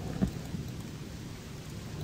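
Rain and thunder from the video game Gothic II as darkness falls, a steady low rumbling wash of rainfall with a soft thunder roll early on, continuous and without talk.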